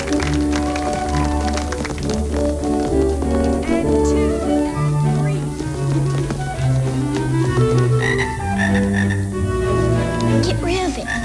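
A frog croaks repeatedly in a 1995 Little Rascals PC interactive movie book, mixed in with busy music and voices throughout.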